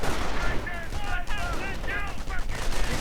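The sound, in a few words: gunfire in a video game battle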